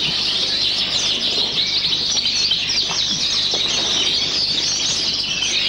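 A pet bird held in the hand for grooming with a brush and toothbrush, chirping and calling steadily in bright, busy bursts over a constant hiss, close and fairly loud, with no talking.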